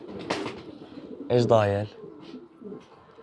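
Pigeons coo from a rooftop loft in a short harmonic burst of throaty calls, fairly close, with a voice talking briefly before and murmured background around it.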